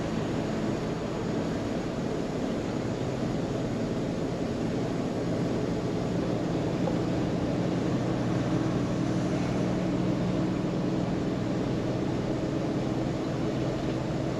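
A 2008 Damon Astoria Pacific Class A diesel motorhome with an Allison transmission climbing a hill at full throttle, heard from inside as a steady, loud, even engine and road drone that does not let up.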